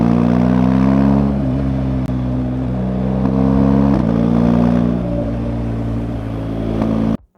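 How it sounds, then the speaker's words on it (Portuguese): A motorcycle's 360-degree twin-cylinder engine running loud and close in a steady drone with slight rises in revs, cutting off abruptly at the end. "Seu som é semelhante a um bicilíndrico de 360 graus."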